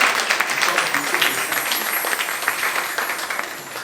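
A church congregation applauding during a thanksgiving service, with a sustained wash of many hands clapping at moderate loudness that gradually tapers off.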